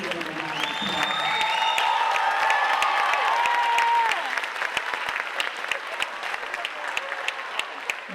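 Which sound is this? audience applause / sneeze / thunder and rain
audience applause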